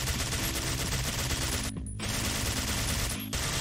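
Turret machine gun in the video game Alien Shooter 2 firing in long, dense continuous bursts, loud and close, with two brief pauses between volleys.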